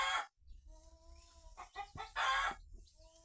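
A rooster clucks in short bursts and drawn-out calls, close and fairly loud, with quieter tonal calls and a low background hum between them.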